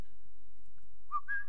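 A man's brief two-note whistle near the end of a quiet moment, the second note higher and held slightly longer.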